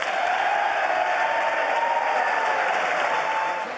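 Sustained applause fills a large chamber at the State of the Union address, steady and loud from start to finish with no voices rising above it.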